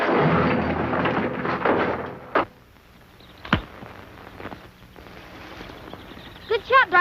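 In a 1952 western TV show, a single sharp gunshot cracks out after a stretch of talk. A few quieter knocks and a brief voice follow.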